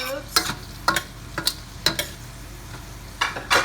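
Sauteed pork cubes go into a hot frying pan with a sizzle, while a utensil stirs in about eight quick sharp scrapes spread unevenly across a few seconds, close up and with no voices.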